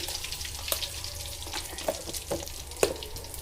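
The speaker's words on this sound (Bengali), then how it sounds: "ফ্রোজেন করে রেখেছিলাম, ওগুলো এখন ভাজবো 4টা" Frozen homemade snacks for iftar frying in hot oil, a close, continuous sizzle and crackle with a few sharper pops and spits, no talk.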